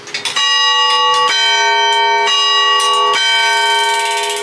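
Large clock bell in the leaning tower at Teluk Intan striking the quarter hour, several loud ringing strikes about a second apart with long overlapping resonance, heard from nearby.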